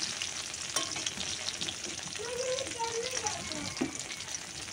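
Garlic frying in a pan for a hilsa-tail mash, giving a steady low sizzle with faint scraping as it is stirred, heard alone at a moderate level.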